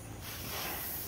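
A bottle being opened with a sustained, close, fairly loud hiss of escaping gas lasting about a second, with no talking.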